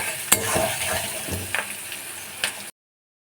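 Onion and garlic sizzle in a hot pan, a constant frying crackle broken by a few sharp scrapes and clinks of stirring over about three seconds, then silence.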